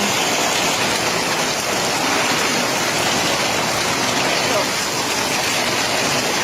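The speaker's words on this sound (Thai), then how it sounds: "วันนี้ฝนตกอยู่แล้ว จ้า" Rain falls steadily under a dark sky, a loud, dense, unbroken rushing hiss like heavy pouring water that fills the whole stretch without pauses, with no voices.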